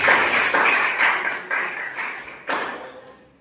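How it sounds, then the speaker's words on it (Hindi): An indoor audience at a talk or seminar claps loudly in several strong bursts that swell and die away, the last round trailing off into quiet. "एक बार मिस्टर के लिए जोरदार ताली।"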